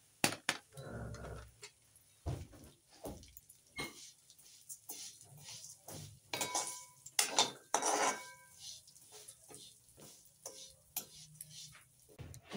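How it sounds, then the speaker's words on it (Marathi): Vermicelli stir-roasting over low heat for kheer, a quiet pan where a spatula repeatedly scrapes and clinks in irregular bursts, with only a faint sizzle between the strokes. "मी आता बारीक मंद आचेवर ही शेवयाची खीर थोडी परतून घेणार आहे"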